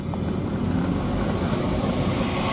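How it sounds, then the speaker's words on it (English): An old John Deere tractor engine runs with a steady low rumble, moderately close, without pauses or voices. "Old John Deere tractor."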